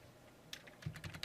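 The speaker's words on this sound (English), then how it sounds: "I'm getting tired of typing the formula" Quick bursts of keystrokes on a computer keyboard as someone types a formula, starting after a brief quiet moment and continuing in irregular clusters of clicks, close and fairly clear with no talking.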